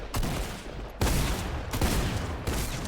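Gunfire in the video game Fortnite: several loud, close bursts of rapid shots in quick succession, each cutting in sharply and sustaining briefly with dense rattling.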